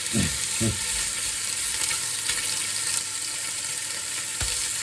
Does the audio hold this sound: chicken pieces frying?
yes